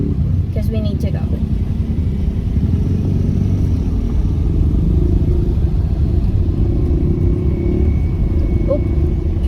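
Saturday morning road traffic in Iloilo, Philippines, a continuous loud low rumble of car and motorcycle engines close by, steady throughout with faint voices.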